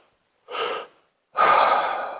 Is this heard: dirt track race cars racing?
no